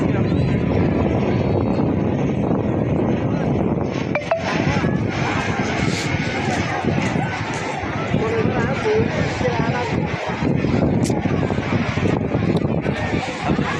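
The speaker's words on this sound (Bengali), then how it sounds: "বিমানটা দেখা তো বিমানটা" Continuous loud mechanical droning of an airplane flying overhead rumbles throughout amid wind and outdoor noise at Cox's Bazar beach, with scattered bursts of voices.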